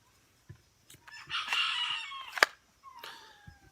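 A rooster crows loudly nearby, followed by a few short clucks from chickens, with brief pauses between calls.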